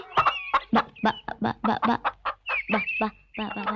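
Large chickens cluck close by in a quick run of short, throaty calls, with a few longer squawks mixed in.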